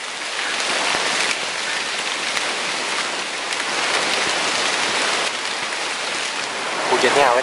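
Steady rain falls during a pigeon hunt in fruiting trees, a dense continuous hiss of drops on surfaces with no speech, swelling slightly near the end.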